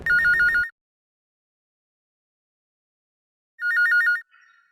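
Telephone ringing for an incoming call, an electronic warbling ring in two separate bursts with a few seconds of silence between, close and clear, no voices.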